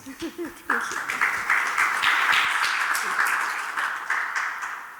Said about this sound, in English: Lovely round of applause for her, please.